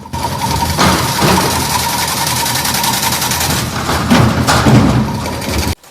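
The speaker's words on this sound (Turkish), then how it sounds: "makineye gelen teller dönen bir mil yardımıyla örgü haline geliyor." A wire fence weaving machine runs loud and close in a fence factory, its rotating shaft twisting galvanized wire into mesh with a dense, rapid mechanical clatter and steady rhythmic thumping that continues throughout.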